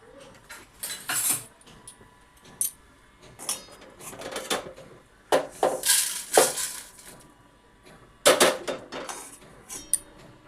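Roasted vermicelli scraped out of an iron wok onto a plate, giving a string of sharp metallic clinks and scrapes in irregular bursts separated by brief quiet gaps, close and fairly loud, with no one talking.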